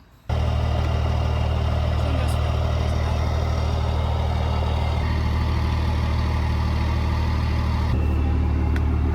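A parts truck's engine starts and settles into a steady, loud idle, a continuous low rumble holding evenly from start to end with no talking over it.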